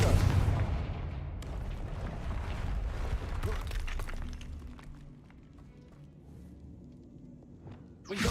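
Confringo fire-blast spell exploding in the Hogwarts Legacy video game: a loud rumbling blast at the start, with cracking, shattering debris that fades into a quieter tail, then another burst right at the end.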